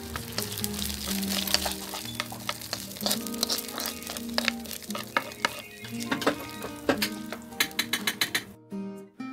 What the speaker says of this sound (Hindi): मैंने थोड़े से ऑयल में करी पत्ता ज़ीरा राई डालकर चटनी को बगा लिया है